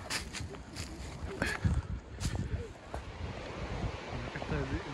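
Turbulent river water rushing past trees along the bank in Inverness, Scotland, a constant broad wash of flowing water heard outdoors with wind buffeting the microphone and some footsteps.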